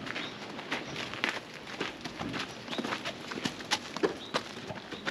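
A horse walks at a steady pace, its hooves clopping in an even rhythm, with birds cooing and chirping faintly in the background.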